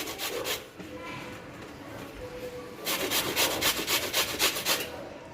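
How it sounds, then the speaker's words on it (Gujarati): Bottle gourd (dudhi) is grated by hand, its outer flesh scraped against a grater in repeated rasping strokes, faint and close, with a denser run of quick strokes in the second half. "ઉપર ઉપર જ આપણે એને છીણી લેવાની છે તમે જોઈ શકો છો મેં બધી દૂધીને છીની લીધી છે"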